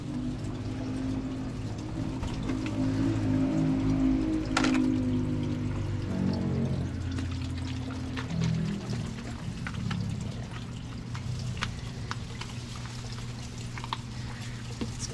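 Distilled water pours steadily into an aquarium holding about six gallons, a continuous close splashing and gurgling stream that runs throughout at fairly even loudness, with no talk.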